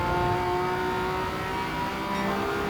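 A small Honda Beat's engine in Gran Turismo 7 hums and revs steadily throughout, a continuous close motor drone with no speech.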